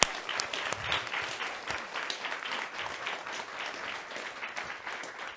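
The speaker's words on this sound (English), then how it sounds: "thank you for this round of applause for all our panelists" An audience at an urban planning panel forum applauds the panelists, steady dense clapping at moderate level filling the whole stretch without pause.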